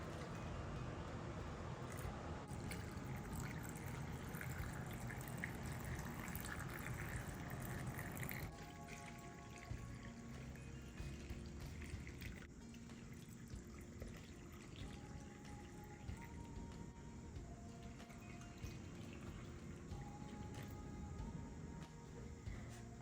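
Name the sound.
hot tap water filling glass jars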